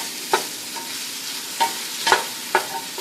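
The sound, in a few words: onion and garlic frying in a pan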